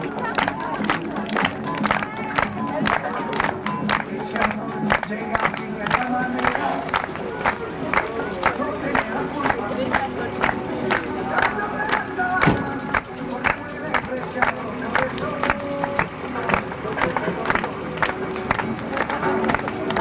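Applause from a crowd at an international gathering of Peugeot car clubs showing vintage vehicles, a steady dense patter of claps running unbroken for the whole stretch, mixed with voices and crowd murmur.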